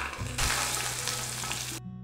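Mustard seeds and urad dal tempering in hot oil for thavala adai give a loud, steady sizzle and crackle that lasts about a second and a half. A faint hum hangs underneath, and the frying cuts off abruptly near the end.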